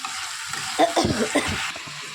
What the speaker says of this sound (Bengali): এবার এটা ততক্ষণ ধরে কষতে হবে যতক্ষণ এটাতে তেল না বেরোচ্ছে